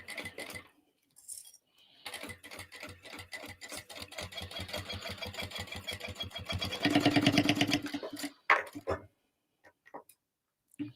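A sewing machine stitches a dolly bag in fast rhythmic bursts, starting and stopping several times and rising to a louder sustained run before falling quiet, close and alone.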